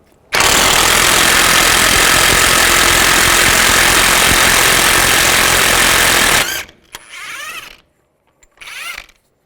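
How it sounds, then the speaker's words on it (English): An impact or power tool with a 32mm socket loosens the axle nut on a 2005–15 Nissan Xterra during a wheel bearing and hub job, a loud, continuous hammering rattle for about six seconds, then a few short quieter whirring bursts. "Take a 32mm socket, take this axle nut off."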